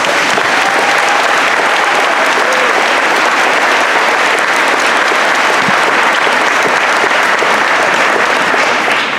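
Steady, loud applause from a large crowd at a high school graduation commencement ceremony, dense clapping sustained throughout without a break.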